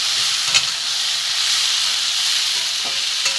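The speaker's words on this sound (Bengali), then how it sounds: "একটু ভালো করে কষিয়ে নেব। কষিয়ে নিচ্ছি ভালো করে।" Spiced soybean curry masala sautéing in a pan, a continuous bright sizzle with a few quick stirring scrapes standing out, close and fairly loud with no talking.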